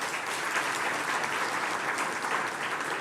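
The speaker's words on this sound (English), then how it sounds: "I think this deserves a round of applause." Steady, sustained applause fills a hall at a research and innovation awards ceremony, a dense even wash of many hands clapping with no break.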